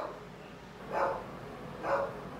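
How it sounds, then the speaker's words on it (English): A pet dog barks twice indoors, two short, muffled, somewhat distant woofs about a second apart over a quiet room. "as I was saying before my dog started barking"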